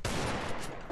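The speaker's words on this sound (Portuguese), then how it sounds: "3 tiros de arma, não pegou nem 9 de dano." Video game gunfire, three shots fired in rapid succession, a dense loud burst packed into under a second.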